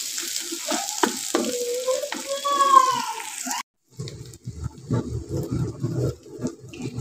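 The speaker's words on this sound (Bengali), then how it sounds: "আমার টাকি মাছ এবং পেঁয়াজগুলো একসাথে সুন্দরভাবে ভাজা হয়ে যাচ্ছে।" Taki fish and onions fry and get stirred in a pan, a steady close sizzle with scraping strokes, under a voice at first, then a brief pause before the sizzling and stirring resume.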